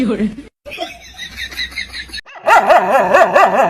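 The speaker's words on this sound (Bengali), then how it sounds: "অপরিচিত লোক দেখলে তো কুত্তায় ঘেউ ঘেউ করবে," A dog barks in short bursts amid lively human voices and laughter, with a louder, more continuous stretch of sound near the end.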